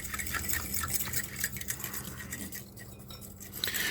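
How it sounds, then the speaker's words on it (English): A fork mixes packaged food in a container, giving a steady run of soft scraping and light clinking strokes, close and continuous with no talking. "Take a fork, we're gonna mix that up real good."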